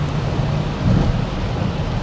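Heavy rain lashes down on a Volvo as it drives through a downpour, a steady dense hiss and drumming heard from inside the car with low road rumble, continuous and fairly loud throughout.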